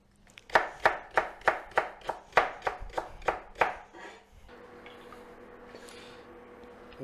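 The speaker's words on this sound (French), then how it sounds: "les poireaux sont propres, on va pouvoir les couper." A knife chops through cleaned leeks on a cutting board, about a dozen quick, crisp, evenly spaced strokes close up, followed by a quieter stretch of low background hum.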